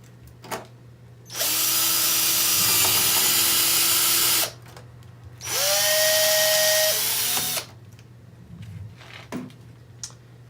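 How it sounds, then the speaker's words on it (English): A power drill whines in two long, loud bursts drilling a hole on a Jeep TJ, each running a few seconds, separated by a short pause with quieter handling noises around them. "we're going to basically mark the hole and then pull this away and drill it"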